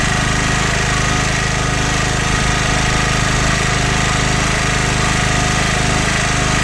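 A generator converted to run on gas roars loudly and steadily at close range, a constant dense engine drone with no pauses and no speech.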